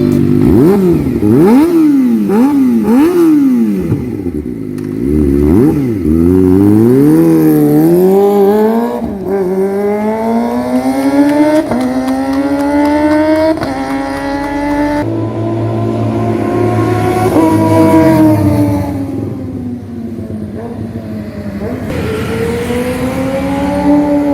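A Kawasaki Ninja ZX-25R's 250cc liquid-cooled four-cylinder engine revs repeatedly, rising and falling in sharp bursts before climbing through long, screaming accelerations, loud and close.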